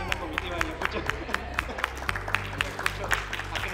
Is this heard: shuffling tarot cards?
no